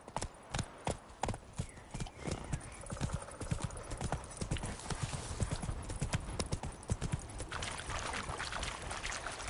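Hooves of Roach, a horse in The Witcher 3 game, clip-clop in a steady rhythm up close, with a brief whinny and faint water-like background sounds throughout.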